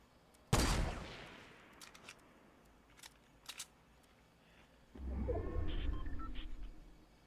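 A loud gunshot bursts out in a solo video game match, followed by scattered fainter shots and clicks, then a longer rumbling stretch of distant fire near the end.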